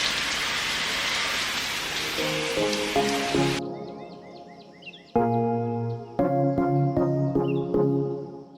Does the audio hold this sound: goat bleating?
no